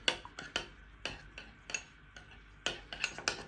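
A spoon clinks against a bowl while mixing a pinkish mayo-based burger sauce with ketchup-style ingredients, giving a string of light irregular taps and scrapes, close and fairly quiet, with no talking.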